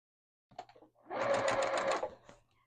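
A sewing machine stitches a quilted name badge a quarter inch from the edge, with a few short stitch bursts followed by a steady, close run of rapid mechanical clatter lasting about a second before slowing to a stop.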